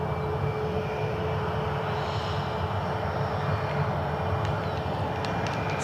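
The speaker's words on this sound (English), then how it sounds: "Max lining up for departure, followed by the United 737-900." A Boeing 737 airliner departing Cleveland Hopkins airport, its engines producing a steady, distant roar that holds evenly throughout with no talking.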